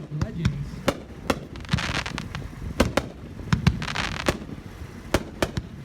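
A Brothers Legends fireworks finale cake, a 45-shot set, fires a rapid string of sharp cracks and thumps at irregular spacing, loud and fairly close, with some voices and movement underneath.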